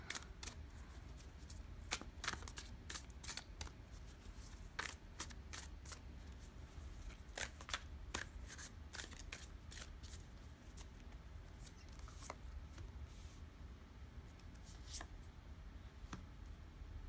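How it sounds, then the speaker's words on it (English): Tarot cards being shuffled by hand, a quiet series of soft, irregular riffling clicks and snaps scattered over a low room hum, with no talk. "gingerly shuffling the cards."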